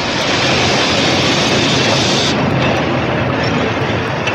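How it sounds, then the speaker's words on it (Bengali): A loud, dense rumble fills the whole stretch as a train pulls into a station, a continuous roar of rail noise with no voices. "ট্রেন একটা স্টেশনে এসে থেমেছে"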